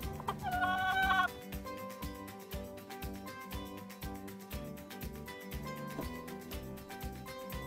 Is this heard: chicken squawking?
yes